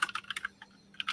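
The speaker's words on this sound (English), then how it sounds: "My man is typing for his life." Fast, frantic clatter of keys on a computer keyboard, close and uneven in rhythm, with brief pauses between bursts and no talk.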